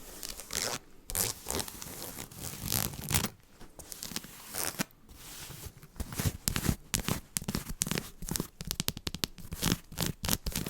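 A small velvet Charlotte Tilbury makeup bag is handled up close, its little zipper dragged open and shut in bursts of rasping, crinkling texture with short pauses between strokes.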